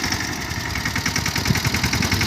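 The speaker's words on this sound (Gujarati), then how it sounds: "ટ્રેક્ટર તો હાલે છે ધીમે ધીમે ધીમે ધીમે" A tractor engine runs at a slow, steady idle, chugging in an even pulsing rhythm close by, while the tractor creeps through a rain-soaked field with mud clogging its tyres.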